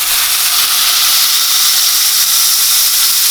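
Steady loud sizzle of a salted portobello mushroom burger patty pressed flat on a hot griddle, a continuous bright hiss with no talk.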